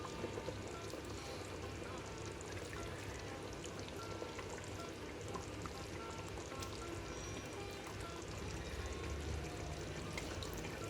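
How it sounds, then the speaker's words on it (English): Thick biryani gravy poured and scooped into a rice cooker pot, a continuous wet splashing and sloshing at close range, moderately loud and unbroken, with no talk over it. "we'll transfer this gravy into this pot"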